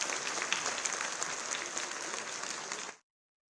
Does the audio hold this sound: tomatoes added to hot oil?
no